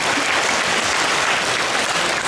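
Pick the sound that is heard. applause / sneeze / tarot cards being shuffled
applause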